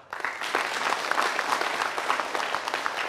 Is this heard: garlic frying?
no